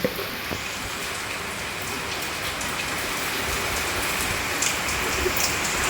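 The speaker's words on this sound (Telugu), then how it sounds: "మిట్ట మధ్యాహ్నం వర్షం వస్తుంది మా ఊళ్ళో ఇప్పుడు" Steady rainfall pattering on surfaces outdoors, an even hiss of drops with a few brief knocks, no voices.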